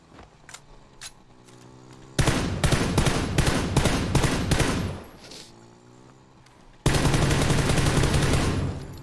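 Virtual M4 assault rifle fire in a shooter game: two long bursts of rapid, loud automatic shots, then a brief lull with a few scattered pops before another sustained burst.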